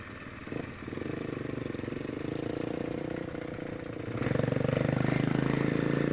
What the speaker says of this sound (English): So it sounds like the carburetor is doing good.